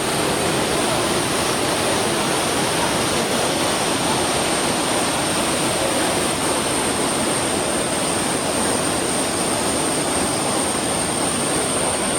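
Madatharuvi waterfall in Ranni, Pathanamthitta, roars steadily and loudly, a dense unbroken rush of falling water filling the whole scene.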